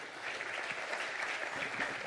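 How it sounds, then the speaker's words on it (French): Audience applause after a talk at a viticulture conference on treated wastewater for vineyard irrigation, a steady dense wash of many hands clapping, moderately loud and continuous throughout. "On peut l'applaudir et le remercier"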